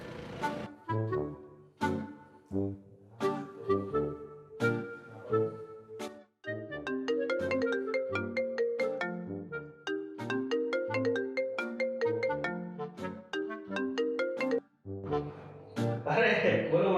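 A melodic phone ringtone plays steadily for about seventeen seconds while a call is placed, its repeating musical notes loud and close with brief pauses, in a Gujarati comedy stage play.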